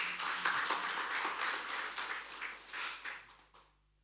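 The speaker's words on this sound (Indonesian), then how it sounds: "Boleh tepuk tangan dulu Bapak Ibu" Congregation clapping during a church worship service, a dense burst of applause that holds steady and then fades out near the end, fairly quiet and without voices.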